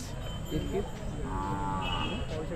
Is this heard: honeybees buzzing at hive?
no